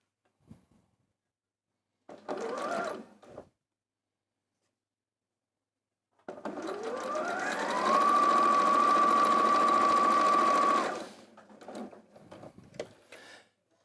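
A sewing machine stitches through quilted tote bag fabric in two bursts, a short run followed by a longer steady whirring pass with a rising motor pitch, close and clear, with handling noise around it.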